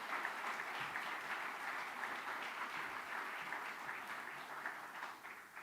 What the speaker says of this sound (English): Can we please just give one more round of applause for these amazing young people?